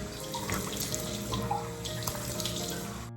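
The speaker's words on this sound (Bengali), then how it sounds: "বেসিনের কলটায় মনে আয়রন পড়েছে এত যে জলটা একদম সরু হয়ে বেরোচ্ছে" Water runs as a thin, steady stream from a bathroom basin tap whose flow is narrowed by iron buildup, a continuous close hiss and trickle into the sink with no break.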